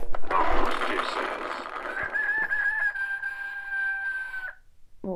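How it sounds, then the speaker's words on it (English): A rooster sound effect: a loud, close crow that opens with rough clucking, then stretches into one long, steady drawn-out note lasting a couple of seconds before cutting off, followed by a brief faint sound. "that was a rooster"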